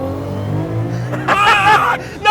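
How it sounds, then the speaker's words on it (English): A Datsun 240Z fitted with an RB26 engine drives and accelerates, its engine droning steadily with a rising note, while people talk inside the car over it. "It drives so like a rear-wheel drive car because you just don't really have understeer"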